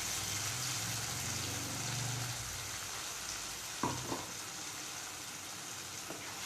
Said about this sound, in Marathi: हे पण छान असं परतून घ्यायचं ह्याच्यामध्ये